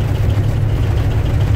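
A car engine idles just after being started, a loud, steady low rumble with a slight uneven throb running continuously.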